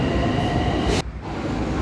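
A metro train rumbles past up close, a steady loud roar with a hissing high end that cuts off abruptly partway, then the low rumble continues.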